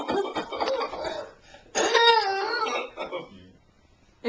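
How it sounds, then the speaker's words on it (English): A person fakes a cough as a game, voicing a few short, forced coughs and throat sounds with brief pauses between them. Little other talk is heard. "How about coughing?"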